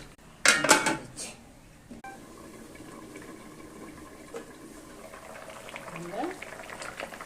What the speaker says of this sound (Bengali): ঝোলটা ফুটে গেছে, এখন আমি এখানে মাছ দিয়ে দেব।